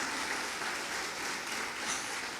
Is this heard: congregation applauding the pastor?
yes